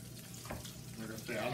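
Butterflied shrimp fry in hot oil for old-school fried shrimp. A soft, steady sizzle and crackle stays fairly quiet and close, then swells a little louder near the end as another piece goes in.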